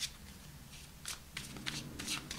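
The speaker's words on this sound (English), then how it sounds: "2 more shuffles." A deck of tarot cards shuffled by hand, several quick close riffling bursts in an uneven rhythm, quiet and alone.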